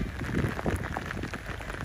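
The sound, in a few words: rain getting heavier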